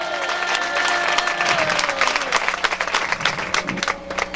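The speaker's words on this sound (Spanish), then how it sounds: "Y a las palmas para Cristo Jesús," A church event crowd gives a burst of loud applause for Christ, dense clapping that swells then breaks into uneven rhythmic claps, with a voice speaking over it.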